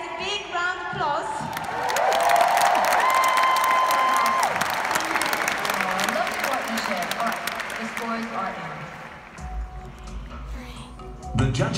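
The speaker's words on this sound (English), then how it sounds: "I think he deserves a big round of applause" A large arena audience at a live Strictly Come Dancing show at the O2 applauds and cheers a dancer, loud sustained clapping with whoops that swells and then fades near the end, with music and talk mixed in.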